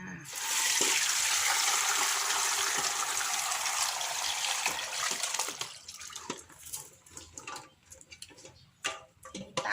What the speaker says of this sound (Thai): แล้วก็กรองเอาน้ำเขาเลยค่ะ ใช้ กระชอนกรองค่ะ